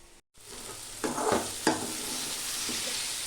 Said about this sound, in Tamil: நான் எண்ணெயில் மட்டும்தான் ஃப்ரை பண்ணிக்கிட்டு இருக்கேன்